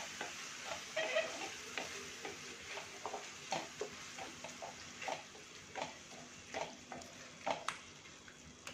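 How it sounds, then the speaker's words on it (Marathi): Curd being stirred into a paneer bhurji masala in a pan over low heat, soft scraping stirs and a faint sizzle repeating in an uneven rhythm, close and quiet. "दही घालून छान मिक्स करून घ्यायचं"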